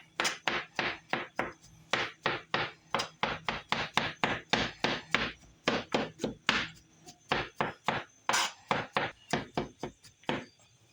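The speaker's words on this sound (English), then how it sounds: "All right, so I got the mushrooms chopped up." Mushroom stems chopped finely with a knife on a cutting board, a fast, steady run of crisp close thuds, about three per second, going on without a break.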